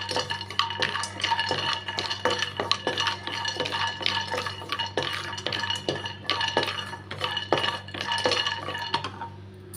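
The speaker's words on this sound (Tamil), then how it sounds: "பத்து பாதாமும் பத்து முந்திரி எடுத்துருக்கேங்க அதை வந்து லைட்டாக கடாயில் வந்து வறுத்துக்கிடலாம்" Almonds and cashews are dry-roasted in a kadai with no oil or ghee. The spatula scrapes and clinks against the pan in a steady, repeated rhythm over a low background hum.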